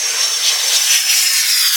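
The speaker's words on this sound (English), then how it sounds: "And the far less beautiful airplanes overhead." Airplanes passing overhead near open water, heard as a loud, steady high-pitched jet whine and rushing roar that swells slightly and holds throughout, with no voices.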